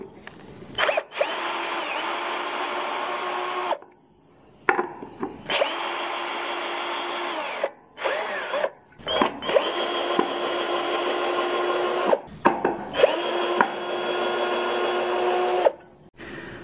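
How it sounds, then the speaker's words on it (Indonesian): Xenon CDID1845 18V lithium cordless impact drill in drill mode whirring in repeated bursts of several seconds each, the motor spinning up and stopping with short pauses between runs. "kita lakukan pengujian pada model bornya"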